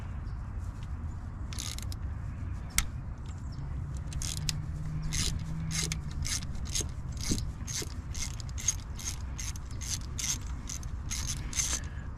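Ratchet wrench clicking during engine work on a 1993 Subaru Impreza, with rapid bursts of sharp metallic clicks repeating in a steady rhythm, close up and fairly loud over a low background hum.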